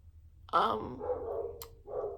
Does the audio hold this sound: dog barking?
yes